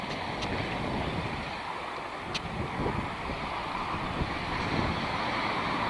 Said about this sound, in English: We're at the ocean.